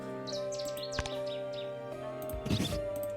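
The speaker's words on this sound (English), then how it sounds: "These birds often hide in deep brush, but reveal themselves with a loud song." A Cetti's warbler sings in short, sharp bursts of chirping notes over a steady background hum, moderately loud and fairly close.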